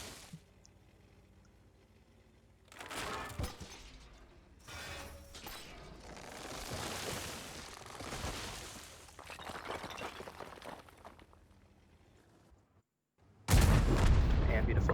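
Tank cannon fire in World of Tanks, including a shot from a 60TP, comes as heavy game booms and mechanical clanks under a player's commentary, ending in a loud burst after a short silence.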